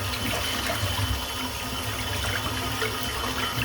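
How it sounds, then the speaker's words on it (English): A shaving brush with a 28mm silvertip knot is rinsed under a running tap, a steady, close splashing stream of water that continues evenly without a break. "So I rinse the brush out now."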